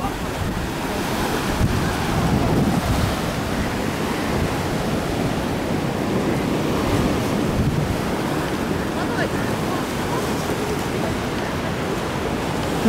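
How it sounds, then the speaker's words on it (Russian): Evening surf of the Indian Ocean off Sri Lanka, a steady wash of breaking waves with heavy wind buffeting the microphone, continuous and fairly loud throughout with no voices. "Индийский океан вечером"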